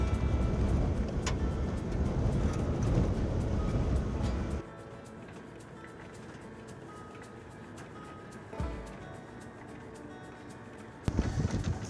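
A safari truck on an African hunting property, its engine rumbling loudly for several seconds before dropping to a quiet idle-like hum, with a brief knock partway through and a renewed surge near the end.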